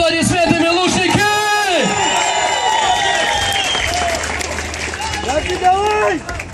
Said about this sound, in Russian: Поддержим бойцов аплодисментами, лучники!